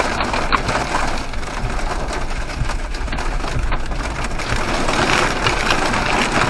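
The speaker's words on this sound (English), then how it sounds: "Oh yeah, big tractor." Loud, rumbling engine of a large tractor droning close by as it passes during a hailstorm, with rattling and clanking over a constant roar.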